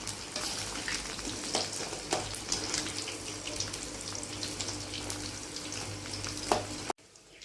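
Ivy gourd (kovakkai) fries in a pan with a dense, even, close sizzle that sounds almost like running water. A few light knocks come through before it cuts off near the end.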